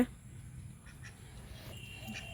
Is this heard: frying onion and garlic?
no